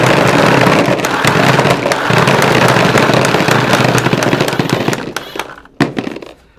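A paintball gun fed by an Empire Halo Too hopper fires rapidly in a loud, dense burst of shots that runs for several seconds, then thins out into a few scattered pops and clicks before stopping.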